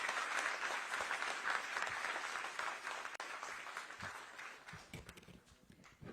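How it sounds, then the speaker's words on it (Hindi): A live audience at a government launch event in Delhi breaks into steady applause, a fairly distant wash of clapping that holds for several seconds and then thins toward the end. "एक बार जोरदार करतल ध्वनि से, ऊर्जा वाली तालियों से अभिनंदन और स्वागत।"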